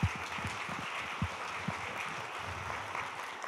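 Applause from an audience at a live monologue event, a steady wash of clapping that is faint and distant, with a few sharper claps standing out near the start and middle.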